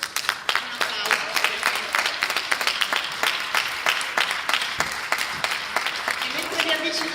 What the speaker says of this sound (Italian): Mentre vi avvicinate, un applauso.